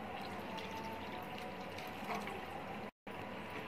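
A glass of water pours into a pot of green peas kurma, a steady close splashing and gurgling fill that runs throughout with one brief gap.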